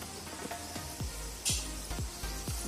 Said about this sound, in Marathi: चला तर आता आपण वडे तळायला घेऊया।